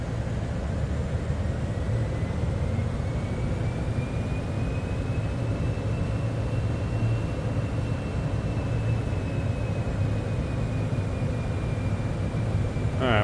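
A Citation X jet takes off in MSFS 2024, a steady, loud engine roar and rushing hiss that holds even throughout, with a faint rising whine above it.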